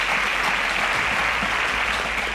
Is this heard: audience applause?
yes